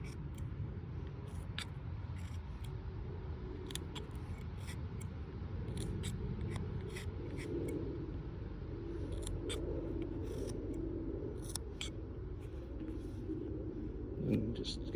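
Small knife shaving fuzzy fibers off a hand-carved wooden chess pawn, a run of light, sharp snipping cuts repeated close up over low background rumble and a faint murmuring voice.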